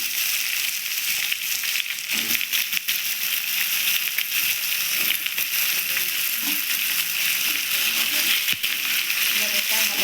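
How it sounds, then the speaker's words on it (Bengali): Potato pieces frying in a pan with tomato and green chilli, a continuous close sizzle with scattered crackles and occasional scrapes of stirring. "এবার এটা ভালোভাবে ভাজতে হবে।"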